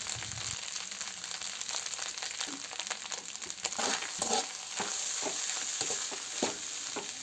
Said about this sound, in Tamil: ஃபைனலாக இதுக்கு தேவையான அளவுக்கு சால்ட் ஆட் பண்ணி நல்லா கிளறி விட்டுக்குங்க.